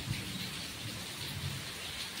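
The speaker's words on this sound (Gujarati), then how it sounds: "વરસાદ એવો પડે ને" Steady heavy rain during a severe downpour in Dwarka district, Gujarat, a dense unbroken hiss with low rumbling underneath that suggests thunder, continuous and close throughout with no voices.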